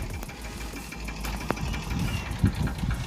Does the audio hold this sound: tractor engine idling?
yes